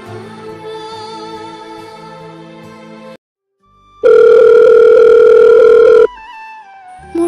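A telephone rings unanswered, with a loud, steady electronic ring tone after a pause, heard near and alone, with musical tones before and after.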